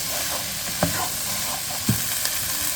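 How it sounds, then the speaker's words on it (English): Garlic and onions fry in a pan with a steady sizzle, broken by a couple of sharp scrapes and clacks of a utensil stirring, close and alone without any talk. "we're going to add our garlic. Fry that off a little bit."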